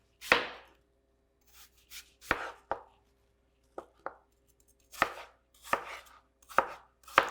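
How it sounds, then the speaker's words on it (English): Knife chopping an apple into small cubes on a cutting board, about ten sharp close thuds at an irregular, unhurried pace with quiet gaps between them. "Cut your apple into equal size cubes."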